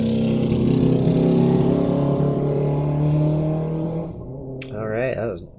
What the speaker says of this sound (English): that was a little motorcycle going by there